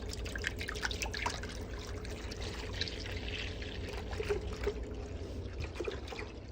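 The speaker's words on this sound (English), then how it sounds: "you pour it in" A gallon of milk is poured into an Instant Pot, making a steady, continuous liquid pour with soft trickling and dripping that runs the whole stretch at moderate, close range, with no talking.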